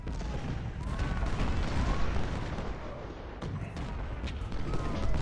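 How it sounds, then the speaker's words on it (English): Cannon and artillery fire in an Ultimate General: Civil War battle at Hall's Ferry, a dense, steady roar of distant booms and musketry with no clear pauses. "They've got lots of cannon."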